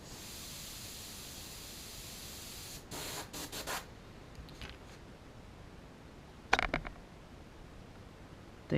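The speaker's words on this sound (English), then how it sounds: "Now for the fins, I am gonna up my air pressure." An airbrush at raised air pressure sprays paint onto the fins of a fishing lure, a steady soft hiss with short louder bursts and a sharp click near the end.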